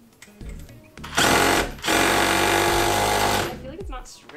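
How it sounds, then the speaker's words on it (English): A power drill revs briefly, pauses, then runs loud and steady for about two seconds as it drives a screw into a bed frame in a studio apartment, with faint voices before and after. "I kind of want to drill one in to say I did one."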